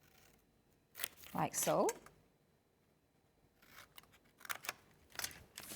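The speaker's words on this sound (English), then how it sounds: "I'm going to go and cut all the way down to that second score line" Scissors snip through scored cardstock while making a flower envelope card, a short burst of close, crisp cutting strokes, followed later by a few lighter snips and rustles, with a brief spoken remark in between.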